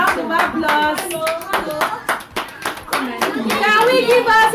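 Young children at a gathering clap for themselves, sharp uneven hand claps rising and falling in bursts, close and loud, mixed with children's excited voices.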